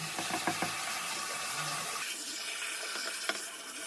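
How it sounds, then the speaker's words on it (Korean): Warm water running from a tap into a basin for bathing a guinea pig, a steady splashing wash with a few louder drips and knocks, close and continuous throughout. "따뜻한 물에 불려줘요."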